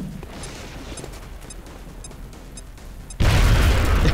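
A grenade explosion in the video game XCOM: Enemy Unknown, a sudden loud, deep boom that hits after a few seconds of quiet ambience with faint periodic beeps and holds as a broad roar to the end.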